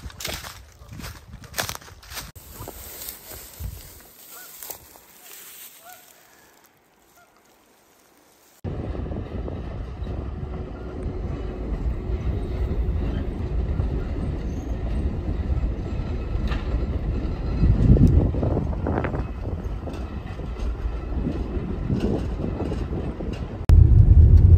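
A scenic railroad train rumbles across a large trestle, a steady loud rolling roar with rising clatter toward the end, following a quieter stretch of outdoor ambience and handling noise.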